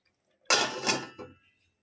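A lid set down on a pan of bhetki fish cooking in a home kitchen makes a single close metallic clatter with a short rattle as it settles, then quiet.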